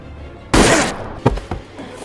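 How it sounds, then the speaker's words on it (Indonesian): A pistol fires in a tense film scene: one sudden, loud, roaring blast with a short decay, then two sharper thuds a moment later, and no voices. "Melihat Daniel tertembak tepat di bagian lehernya"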